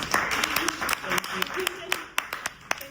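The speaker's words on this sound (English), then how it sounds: "So now we can clap for everybody" Audience applause after a post-show talk for the play Supersonic Man at Southwark Playhouse: a fairly quiet spread of clapping with a few sharp, separate claps standing out, while people talk over it.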